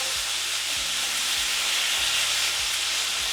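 Lamb chops deep frying in hot oil give a steady, close sizzling hiss that runs the whole time, with faint low bubbling and no voices.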